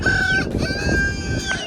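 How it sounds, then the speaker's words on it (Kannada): A chicken gives a few sharp, close squawking calls over a short moment, loud and alone. "ಪಾಪ ಕೋಳಿ ಒದರಾತಿತ್ರಿ"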